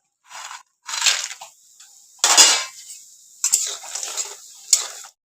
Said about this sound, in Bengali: তেলের মধ্যে ডালের বড়ি ভেজে নিব